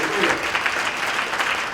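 An audience at a conference speech applauds the organizers, a dense steady clapping that fills the whole moment at moderate loudness.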